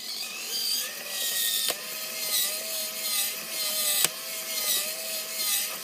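Brand new tracks on a Bruder D5 toy bulldozer, driven by a servo, make a continuous close clattering, ratcheting whir, broken by two sharp snapping clicks a couple of seconds apart.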